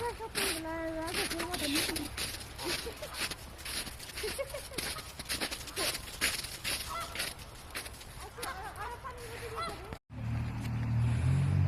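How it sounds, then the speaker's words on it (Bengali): Wild ducks honk and call repeatedly on half-frozen icy water in bitter cold, a busy flock chorus of overlapping nasal calls close by, with people talking over them before a sudden cut to quieter rumble. "দেখো এখানে কত হাঁস সাঁতার কাটছে"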